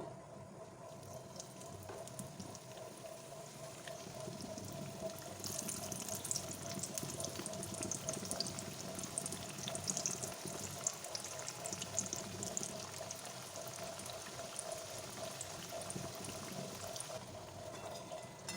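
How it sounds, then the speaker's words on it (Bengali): Semolina gujiya deep-frying in hot oil, a steady bubbling sizzle that swells after a few seconds and holds at moderate loudness to the end, with no talking. "তাই আমি সবগুলোকে ভেজে নেব"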